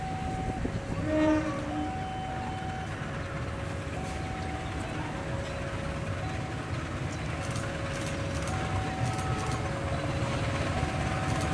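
A Tata Ace pickup truck converted into a rail trolley runs along a railway track with a steady, continuous rumble and drone, constant and fairly loud throughout, with no talk.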